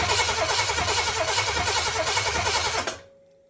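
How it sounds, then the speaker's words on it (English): An Oldsmobile 400 big block engine, fed from a gas can through a fuel line, cranks loudly on the starter with a rapid rhythmic chug for about three seconds, then stops abruptly, leaving a faint fading whir. "Let's just crank it and make sure we have a good operating fuel pump here."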